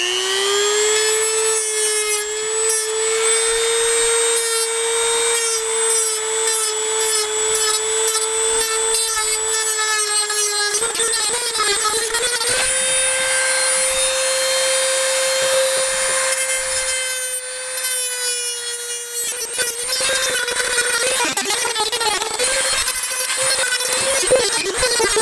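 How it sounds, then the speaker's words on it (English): A reinforced cutoff wheel on a power tool cleans dirt from a cracked plastic joint before welding, giving a loud, steady high-pitched whine that shifts pitch as it bites, with grinding scrapes and no talking. "I'm just using a cutoff wheel, a reinforced cutoff wheel."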